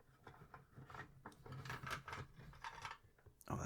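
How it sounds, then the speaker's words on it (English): A pencil case is handled up close, with soft rubbing, scraping and rasping sounds in uneven bursts and a louder scratch at the end. "There's also the pencil case back here."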